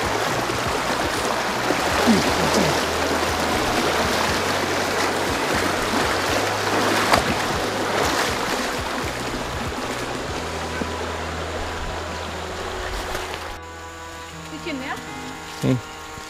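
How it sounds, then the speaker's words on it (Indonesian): River water flowing during a boat crossing to a village near a gold-mining area in Sarolangun, Jambi, a continuous close rushing and splashing wash that thins near the end, with people talking over it. "Sungai terakhir yang diseberangi sebelum masuk kampung."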